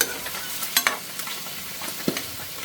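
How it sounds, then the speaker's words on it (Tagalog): Food stirred in a pan as it cooks: faint scraping strokes of a utensil over a soft, steady sizzle, with a few sharper clinks at the pan, close and quiet. "Haluin mo lang yan hanggang sa maluto siya."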